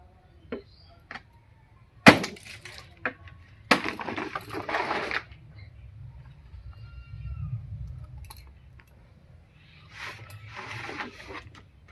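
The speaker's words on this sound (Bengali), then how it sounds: "অনেক বড় ডাটা তো ছোটো ছোটো করে টুকরো করে নিই" Large mankochu (giant taro) stalks snapped by hand into small pieces, giving a few sharp crisp cracks followed by a longer rustling, tearing crunch, then quieter fibrous snapping, close and with no talk.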